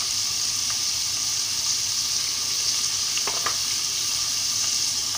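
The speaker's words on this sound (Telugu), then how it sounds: "ఆనియన్స్ కాస్త వేగాలండి." Onions frying in a pan for Alasandakayala curry, a steady loud sizzle throughout with a few faint clinks of stirring, no voices.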